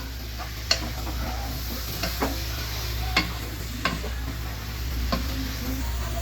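Fried, ground spice paste being stirred into chalta (elephant apple) pickle in a pan, with a low steady sizzle and a series of sharp spoon taps and scrapes against the pan every second or so, close by, with no voices.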